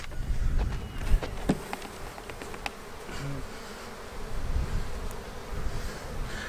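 Honeybees buzzing thickly around a beekeeper working an open hive, a constant insect drone with individual bees zipping close past the microphone, loudest at the start and again later; no voices.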